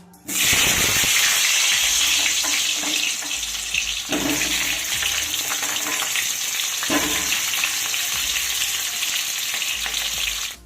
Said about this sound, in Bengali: তেলটা কিন্তু ভালো গরম হয়ে গেছে এবার আমি আলু ভেজে নেবো